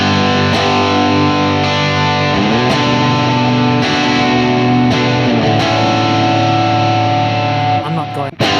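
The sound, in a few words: electric guitar with delay and reverb effects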